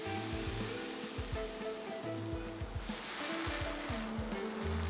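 Italian sausages browning on a grill, giving a continuous soft hiss and sizzle over a low, rhythmic hum of background machinery; nobody talks.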